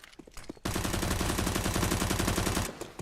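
Explosions from HE grenades detonate in rapid, overlapping succession in a Counter-Strike match, forming a dense, loud burst of booms and crackle that lasts about two seconds before cutting off.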